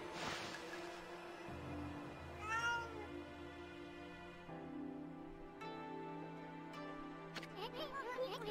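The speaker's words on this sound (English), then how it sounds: "Stop meowing." A cat meows a few times in the video game Okami, rising and wavering cries spaced apart over a steady musical background with sustained tones.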